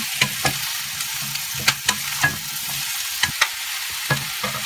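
Brussels sprouts topped with egg stir-fry in a pan over medium heat, a steady sizzle broken by repeated sharp scraping clicks of a utensil turning the food, close and alone.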